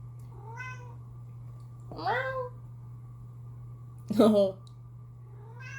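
A cat meows three times behind a closed door early in the morning, with rising, drawn-out cries over a low steady hum, the last one the loudest. A brief spoken word comes in between the meows.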